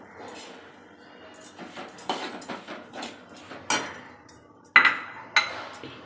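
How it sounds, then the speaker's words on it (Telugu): White wheat semolina dry-roasted in a pan for sweet sunni undalu, with an irregular series of spatula scrapes and metallic clinks against the pan, close by and moderately loud, with no talking. "ఇప్పుడు ముందుగా తెల్ల గోధుమ నూక వేపుకోవాలి"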